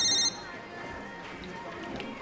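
A telephone rings in a school drama scene, a brief electronic trill right at the start that quickly gives way to a steady murmur of room sound and talk.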